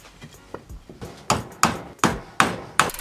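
A hammer drives nails into a scrap pine wood box, with about a dozen sharp wooden knocks that grow louder and more evenly spaced as each strike lands firmly and close.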